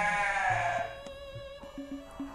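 Garut sheep bleat inside a colony pen bedded with sawdust, several wavering calls overlapping at close range, with a few short thumps and lower bleats following.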